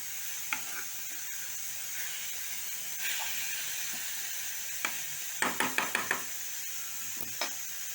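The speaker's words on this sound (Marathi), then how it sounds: "याच्यामध्ये आपल्याला काय नमक वगैरे काय टाकायचं नाही, फक्त परतून घ्यायचं।" Fresh fenugreek leaves sauté in a pan with no salt added, giving a steady soft sizzle and hiss beneath occasional sharp scraping and tapping from a spatula stirring, with a quick run of taps near the end.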